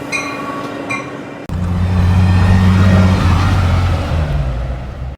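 A taxi car driving past, a loud steady engine rumble with road noise that swells in after a quieter opening and holds for several seconds, with no talk.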